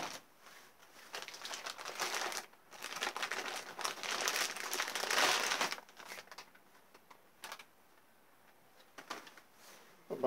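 Packaging for a new impact wrench being opened in a workshop: close, loud bursts of crinkling plastic and rustling cardboard in irregular handfuls, easing to sparse, quieter rustles and small clicks toward the end.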